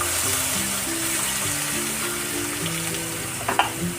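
Ground masala paste frying in a pan, a steady close sizzle with a few stirring knocks near the end, under faint background music.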